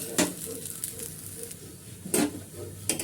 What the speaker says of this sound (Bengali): একটু এই পিঠটা একটু হালকা করে ভেজে নিই